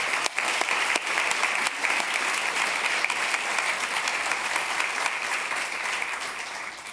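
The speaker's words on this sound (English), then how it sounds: "Please join me in giving a round of applause to Ann for making this possible." Sustained applause from an audience at a hunger and nutrition summit in Iowa, dense steady clapping held for about seven seconds before easing slightly at the end, with no voices over it.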